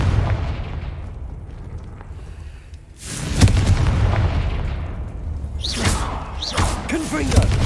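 Blasting fire-spell explosions from Hogwarts Legacy, a dull burst at about three seconds followed by rumbling impacts and crackling magic effects, loud over game ambience with occasional voice.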